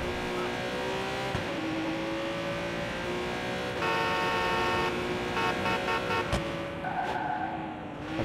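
A car horn honks in Watch Dogs 2, its sustained tones sounding over engine noise and tire squeals from driving, with a few short toots near the end.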